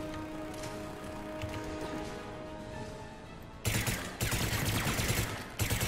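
Submachine gun fire in Mass Effect 3, with dense rapid bursts that break in loudly partway through and stutter on to the end, following a quieter stretch of crackling background battle noise.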